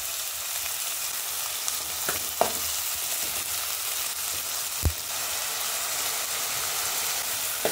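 Tomatoes frying in oil for Mumbai-style pav bhaji, alongside onion, green chili, ginger, garlic and capsicum, give a steady close sizzle with a few sharp pops and stirring knocks throughout.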